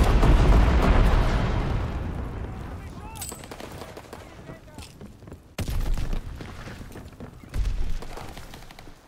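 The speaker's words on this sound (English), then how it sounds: "Enemy bomber! Incendiary bombs incoming!" Incendiary bombs dropped by an enemy bomber explode in Call of Duty WWII, starting with a loud booming blast that slowly fades, then two more sharp bursts amid rattling battle noise.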